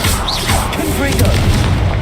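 Confringo fire-blast spell being cast in the Hogwarts Legacy video game: a booming explosive burst under a spoken incantation, with game effects rumbling throughout.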